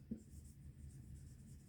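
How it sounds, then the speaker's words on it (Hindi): Chalk or marker moves across a classroom board, making a faint, continuous scratchy stroke with a small tap at the start. "चलो गिवन लिखते हैं।"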